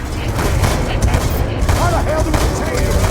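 Dense gunfire from the Call of Duty Black Ops 2 video game, continuous loud rattling bursts of automatic shots with booms mixed in, with a voice talking faintly underneath.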